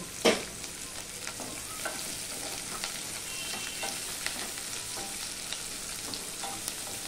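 Chopped onion and garlic frying in a pan for chana masala, with a steady close sizzle, a sharp clatter near the start and soft scraping stirs recurring throughout; no one speaks.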